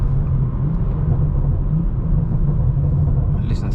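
A BMW M140i Shadow Edition, a 440 bhp hatchback, gives a steady, loud low engine rumble that holds evenly for about four seconds with no clear revs.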